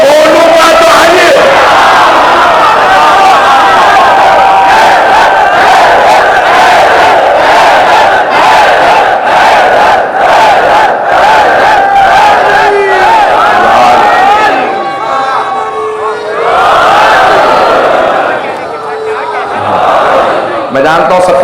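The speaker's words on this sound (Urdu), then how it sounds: "میں جانتا ہوں سب کے نعرے ادھر سے ادھر نہیں پہنچ رہے ہیں." At a Muharram majlis, a large mourning crowd chants slogans in loud unison, with massed shouts swelling and repeating, then briefly thinning to a lull before the roar of voices resumes.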